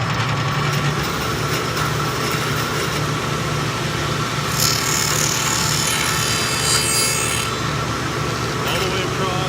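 A table saw cuts a rabbet in wood, its blade running in a steady, loud, close whine with a low motor hum throughout.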